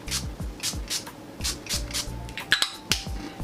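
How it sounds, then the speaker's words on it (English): Ciate London Everyday Vacay makeup setting spray goes on in a run of short, close, hissing pumps, roughly eight bursts in a steady rhythm, with a few light clicks near the end. "let me spray some setting spray. I'm going to use my Ciate London Everyday Vacay"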